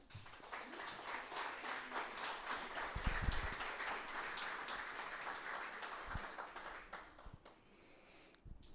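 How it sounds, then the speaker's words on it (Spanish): Church congregation applauding during a Spanish-language worship service, a faint, fairly steady wash of clapping over about nine seconds with a few louder thumps near the middle. "Den un aplauso al Señor, hermano."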